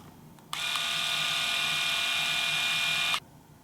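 A Philips Norelco electric shaver with a replaced NiCad battery switches on and runs with a steady high-pitched whirring hum for about two and a half seconds, then cuts off abruptly, close and loud.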